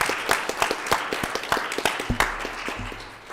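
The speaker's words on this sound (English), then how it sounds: "Let's give her a round of applause." Applause at a village council reorganization meeting, a round of scattered claps in distinct bursts for a newly seated member, with brief low tones near the end.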